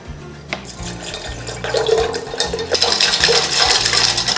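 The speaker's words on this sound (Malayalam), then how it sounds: "ഇനി ഇതിനകത്തേക്ക് നമുക്ക് വെള്ളം ഒഴിക്കാം." Water is poured into a glass of homemade juice with ice, a close splashing stream that starts faintly and grows fuller and louder, with light clinks of ice.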